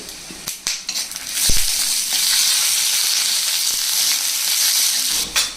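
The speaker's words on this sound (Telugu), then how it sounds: "ఇదిగోటి ఇలా వేగిన తర్వాత పచ్చిమిర్చి వేసుకోవాలండి అలాగే రెండు ఎండుమిరపకాయలు" Green chillies and two dried red chillies fry in hot oil in a pan, giving a loud, steady sizzle broken by a few clinks and stirring sounds at the start and end.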